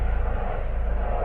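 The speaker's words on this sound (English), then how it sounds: "Helicopter just going over, a bit of excitement." A helicopter passes overhead, a steady droning engine rumble holding at even loudness over a quiet lakeside carp fishing spot, with no talking.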